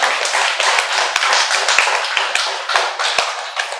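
A meditation-talk audience claps loudly and steadily, with dense overlapping hand claps and a few sharper individual slaps standing out, close and sustained.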